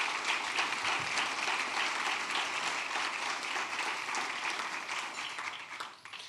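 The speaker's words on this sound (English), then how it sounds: "So please, a round of applause for Women United and the Rewards Card." Audience applause fills a breakfast kickoff event for United Way of the Lower Eastern Shore: dense, steady clapping from a crowd that holds at full strength, then thins and fades in the last second.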